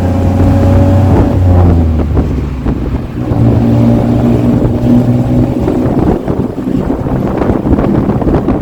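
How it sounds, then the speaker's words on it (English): A fast tuk-tuk ride through Bangkok: a loud, steady engine drone under heavy wind buffeting across the microphone, with no voices. "it is a super fast bullet tuk-tuk, you just see this is not a tuk-tuk"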